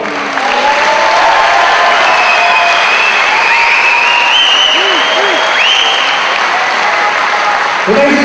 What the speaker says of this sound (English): That's got a distant round of applause.